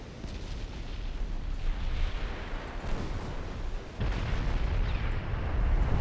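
Naval shells striking the ship Portland in the game Ultimate Admiral Dreadnoughts, heard as a dense, continuous rumble of booming impacts and artillery-like blasts. The loud roar swells and grows heavier toward the end, with no voices.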